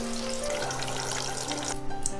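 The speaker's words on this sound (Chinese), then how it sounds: "油温再次升高，倒进来再炸10秒钟" Chicken pieces being deep-fried a second time in reheated hot oil, a steady dense crackle and hiss of bubbling oil running throughout, fairly close.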